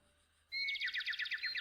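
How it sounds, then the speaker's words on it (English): After a near-silent start, birds break into bright, rapid chirping outside. They may be Australian magpies. The burst of repeated trills is close and clear, with no talking over it. "I hear those birds again. It's birds,"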